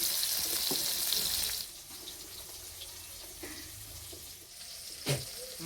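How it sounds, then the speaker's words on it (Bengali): Rohu fish pieces frying lightly in oil, a loud sizzle that drops to a softer crackle partway through, with a few clinks and a brief knock near the end; no one speaks. "মাছগুলো বেশি ভাজবো না, হালকা করে একটু ভেজে নেব।"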